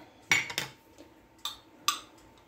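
A metal spoon clinks and scrapes against a jar and dishes while garlic cloves are measured for chicken tortilla soup, giving four short, close clatters spaced apart in a quiet kitchen.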